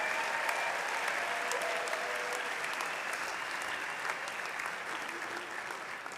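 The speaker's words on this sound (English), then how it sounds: "please give a huge round of applause for the graduates from the Business Management program" Sustained applause from a large audience at a business school's spring convocation, greeting graduates of the Business Management program. Clapping stays dense and steady throughout without fading.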